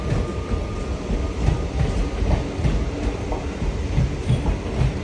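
A train rumbles in and draws closer, its steady broadband roar mixed with faint clacking of wheels over the rails, loud and continuous throughout with no voices.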